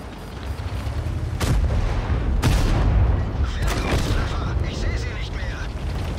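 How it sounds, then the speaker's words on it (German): A TVP T50/51 tank fires its cannon in World of Tanks, giving a couple of heavy booms over a rumbling engine backdrop, with someone talking over it. "Einen Schuss konnte ich noch machen."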